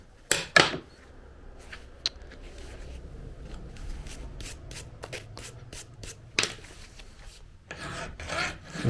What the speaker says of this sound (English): I had no idea the proper way to file until I watched that. And so cross cut, you use pressure in both directions.